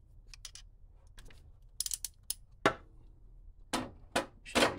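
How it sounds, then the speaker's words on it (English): A ratchet turning a spark plug socket on the driver's side of an LS engine, producing a series of sharp metallic clicks and clacks in irregular bursts, close and fairly loud against a quiet background. "So go ahead and get your spark plug socket on there."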